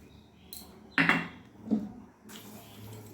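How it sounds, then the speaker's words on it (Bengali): Grated coconut and sugar stirred in a pan with a spoon, giving a few separate scrapes and knocks of utensil against metal between quiet gaps. "একসঙ্গে মিশিয়ে আরও খানিকক্ষণ আমি রান্না করে নেব"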